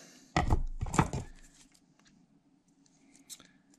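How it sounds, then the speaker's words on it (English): Two quick, crisp snips of non-stick scissors cutting line close by during carbon fiber infusion work, then a few faint clicks and rustles in a quiet room. "And again, the non-stick scissors."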